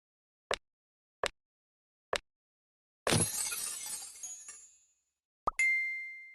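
A phone shattering in the Piper's Pet Cafe video game: three sharp clicks, then a loud glass smash with a long tinkling decay, followed by a final crack and a ringing tone.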